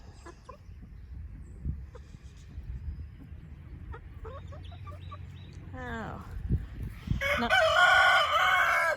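Backyard chickens in a coop, scattered clucks building toward a rooster's loud crow near the end, with a brief exclamation from a person partway through.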